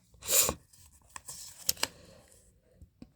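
Tarot cards are shuffled by hand: a quick papery riffle burst, then a few soft scattered flicks and taps, all quiet and close, with no talking.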